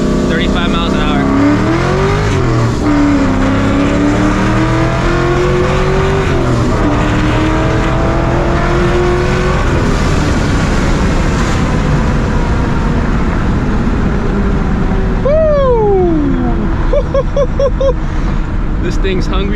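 A supercharged New Edge Mustang GT accelerates hard, the engine climbing loudly through gear pulls with rising whine, a brief shift dip, then another steep climb; the roar stays close and dominant throughout.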